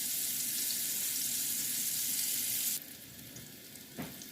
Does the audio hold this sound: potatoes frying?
yes